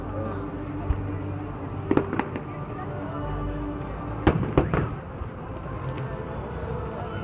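Several sharp fireworks bursts crack out in quick clusters over a steady background hum, a few scattered pops first, then a louder close burst of three or four.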